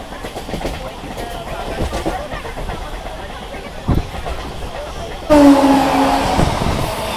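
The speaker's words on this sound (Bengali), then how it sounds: "তো আমরা এখন ডিপার্চার করছি বাগনান রেলওয়ে স্টেশন।" A crowded local train pulls out of Bagnan railway station on the Howrah–Kharagpur line, its wheels rumbling and clattering with sharp knocks, then a louder burst of rolling noise and a squeal as it picks up speed, with passengers murmuring.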